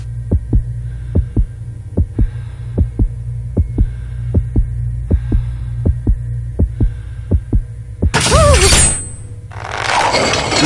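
A heartbeat sound effect from a Jackbox party game throbs in a steady low double-thump rhythm with a faint hum, then gives way to two loud, harsh crashing bursts near the end.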